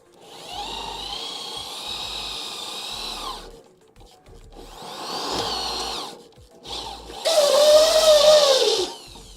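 A rotary burr grinds out holes in rusty sheet metal on an old Dodge Charger crew cab, producing three separate bursts of high, whining, buzzing power-tool noise with short pauses between them, close to the microphone.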